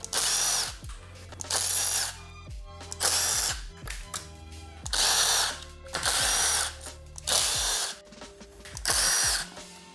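Power drill or impact driver spinning out bolts on a Suzuki DRZ400 stator cover, in six loud, close bursts of a few seconds each, separated by short pauses, with ratcheting clicks between runs.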